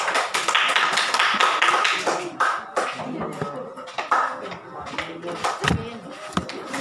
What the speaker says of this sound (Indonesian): Oke lulus, bagi tepukan